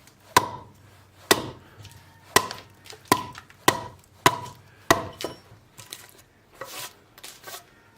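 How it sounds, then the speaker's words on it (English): Axe or chisel chopping into wood while hollowing the inside of a carved bowl: about nine sharp, evenly spaced strikes ringing out close and loud, the last few softer and quicker, with no talking. "So I always chop"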